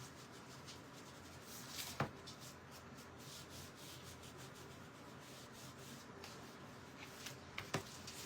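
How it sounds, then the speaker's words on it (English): Paint being scraped off a cheap Dollar Tree picture frame, a quiet, steady rubbing and scratching texture with two brief sharper clicks, close by and with no talking. "I did end up scraping some of that paint off."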